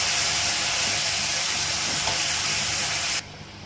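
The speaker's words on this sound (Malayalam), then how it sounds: "ഇത് മസാല കരിയാതിരിക്കാൻ കുറച്ച് വെള്ളം ഒഴിക്കുന്നുണ്ട്." Hot water poured into egg roast masala in a pan sets off a loud, steady sizzling hiss that cuts off abruptly near the end.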